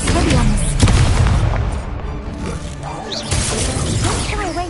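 A magic spell effect from the Hogwarts Legacy video game sounds as a loud booming crash with shattering and mechanical clatter, fading and then swelling again, with a voice shouting over it.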